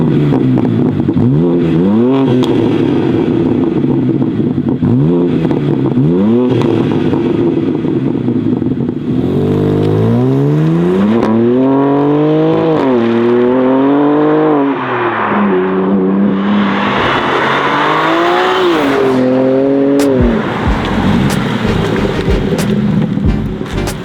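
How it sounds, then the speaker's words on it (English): A BMW G87 M2 with a full titanium equal-length exhaust revs hard several times in sharp bursts, then roars past up close with rising and falling pitch as the car accelerates by. "we gotta do some stock revs and flybys for you guys first"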